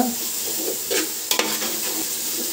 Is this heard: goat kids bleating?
no